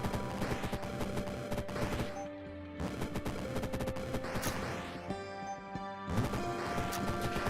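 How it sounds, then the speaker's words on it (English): Autocannon fire in a video game, heard as continuous rapid heavy blasts with crashing impacts over game music, pausing briefly a few times before resuming at full intensity. "Did you put an autocannon in front of me, bro?"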